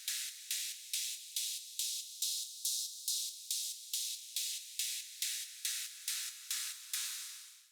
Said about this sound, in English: I needed some cymbals, and they sound like this